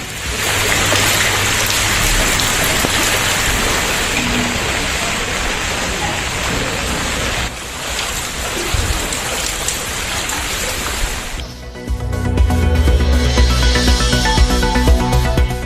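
Heavy rain pouring down in Chennai during Cyclone Fengal, a loud dense steady hiss of downpour that shifts to a slightly different drumming texture near the end, with no voices.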